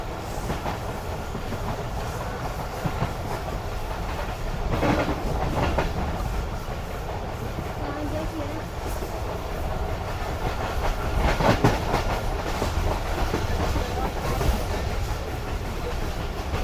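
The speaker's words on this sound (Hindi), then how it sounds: "तो ये ट्रेन हमारी इस वक्त क्रॉस कर रही है अल्लाह दी निशान रेलवे स्टेशन को।" Rehman Baba Express passenger train rolling past Allah Di Nishan station among old dense trees, with a steady clickety-clack rumble of wheels on rails and faint metallic squeals, loud and continuous throughout.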